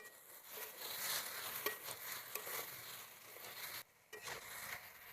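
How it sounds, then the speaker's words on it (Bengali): Jackfruit and shrimp masala being sautéed in a pan, a steady close sizzle with scraping stir strokes running throughout and a brief pause near the end. "এটা ভালো করে কষাতে থাকবো। এর ভিতরে জলটা বেরিয়ে আসবে, মশলাটা ভিতরের মধ্যে ঢুকে যাবে"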